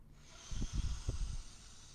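Slow breathing exercise, audible breaths drawn in and pushed out in a few soft, close pulses over about a second, then quiet, with no talking.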